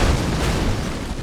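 A warship cannon from a naval battle game fires and explodes in one continuous loud, dense roar of blast and rumble that stays at full level throughout, with no talking.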